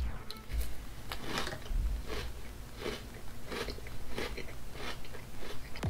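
Dunkin' Mocha Latte cereal crunches in a chewing mouth up close, with loud, rhythmic bites and crunches repeating about every half second to second.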